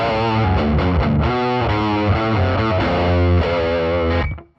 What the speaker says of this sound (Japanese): 弥勒というオーバードライブなんですけど、これをちょっとじゃあどういう音かというのを出してみますか